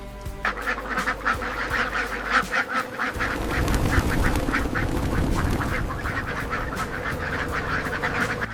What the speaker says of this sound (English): A river of ducks crossing the road.